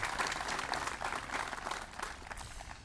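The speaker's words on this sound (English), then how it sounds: "One more round of applause for the" An audience at an outdoor Memorial Day observance applauds, a steady crowd clapping of many hands, moderately distant and even, fading slightly toward the end with no speech over it.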